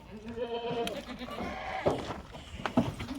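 A Kathiawari goat bleats a few times nearby, with wavering calls between other farm noises and brief thumps.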